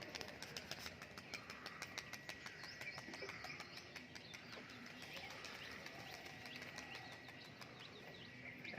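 Pigeons being sold are released to fly, giving faint chirps and coos with rapid fluttering wing claps, heard from a distance against a low background hum.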